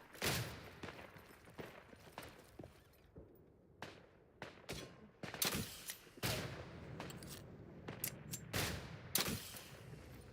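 Artillery barrage and gunfire in the World War I shooter Isonzo: a string of loud, sharp blasts and bursting volleys, some near and heavy, others overlapping in rapid clusters, with rumbling tails between impacts.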